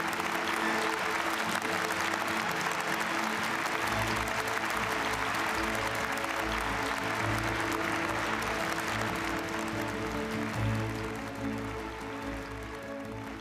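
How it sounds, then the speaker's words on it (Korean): An audience at a Korean think-tank forum session on a Korea–Japan undersea tunnel gives steady, sustained applause to welcome a speaker, a dense, even clapping that carries on for over ten seconds before tapering slightly. "박수로 맞아 주십시오"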